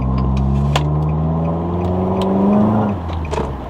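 A car fitted with a Top Speed Pro 1 exhaust accelerates hard, its loud close engine note climbing in pitch through the gears, then easing off near the end.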